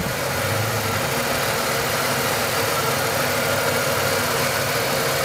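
A six-cylinder car engine idles steadily, a continuous even rumble close by with no breaks or voices.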